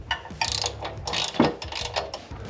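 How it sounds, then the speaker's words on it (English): A ratcheting spanner clicks in quick bursts while undoing the top strut bolts during a suspension lift on a 2020 Ford Ranger PX3, the pawl ratcheting loud and close in several uneven runs with no talk. "if you don't have a set of ratcheting spanners, I'll go get some, because they are worth their weight in gold."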